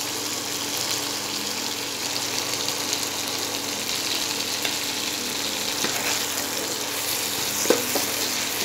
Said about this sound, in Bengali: 2 मिनिटेर मतो आमी सब्जीगुलो फ्राई करे नेब